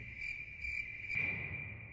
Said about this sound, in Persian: همینجور سوت و کور با صدای جیرجیرک در پس زمینه